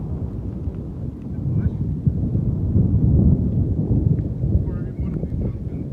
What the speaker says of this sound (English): that thunder's gnarly